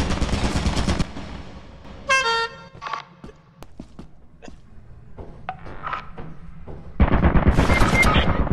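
An automated turret in the video game Lethal Company fires loud, rapid bursts of gunfire near the start and again at the end, with quieter clanks and game noises in between.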